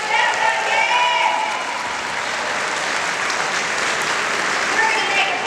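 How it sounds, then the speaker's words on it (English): Applause from a Democratic political rally audience in Florida, steady loud clapping from a large crowd filling the room throughout, with faint cheers and voices mixed in. "Give yourself a thanks and a round of applause for that one"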